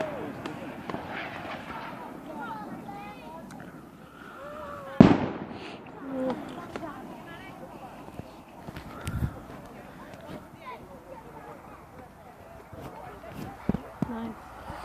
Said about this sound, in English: I might be able to get a few more fireworks if there are any.